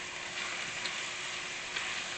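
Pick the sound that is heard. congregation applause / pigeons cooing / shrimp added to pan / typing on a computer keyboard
shrimp added to pan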